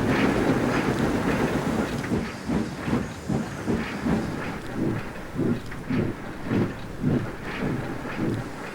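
A steam train engine pulls into a quarry station, its loud, rhythmic puffing chuffs repeating steadily over a continuous hiss and a low rumbling base.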